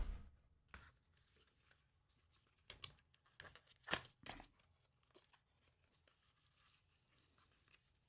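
Packaging is pulled out of a UBOX 11 TV box unboxing, with scattered faint crinkles and tearing rustles of plastic and paper, a few sharper bursts among quiet stretches, close by.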